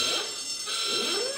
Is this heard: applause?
no